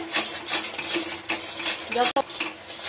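Grated coconut mixture for a sweet being stirred in a pan: quick rhythmic metallic scrapes and clinks of a spatula against the pan, loud and close, with a brief pause near the end.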